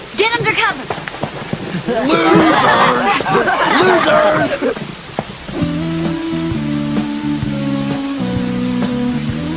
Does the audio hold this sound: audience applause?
no